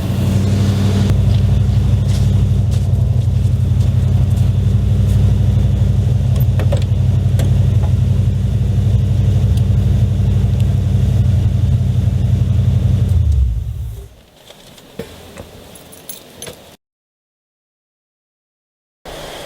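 A 1979 Camaro muscle car's engine idles with a loud, steady low rumble, then shuts off abruptly, leaving faint ticking and quiet rustles before near silence and a final soft thump.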